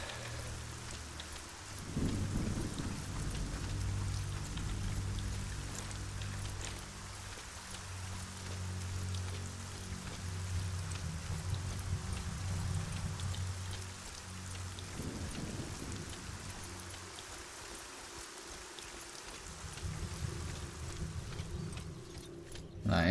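Rain in the fantasy game Arcania falls steadily, a soft continuous patter with low rumbling underneath, faint and unbroken for over twenty seconds.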